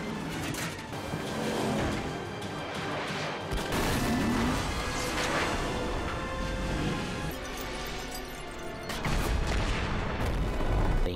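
A police car from the action film The Marine crashes into a river and explodes, heard as rumbling impacts, crashes and booming bursts layered in a continuous dense action-scene roar, fairly quiet overall.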